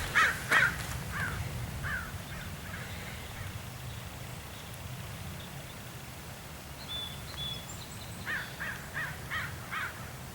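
A raven in the mountains gives a few harsh caws near the start, followed by a faint, quiet spell, then a quick run of repeated croaking calls toward the end, moderately distant.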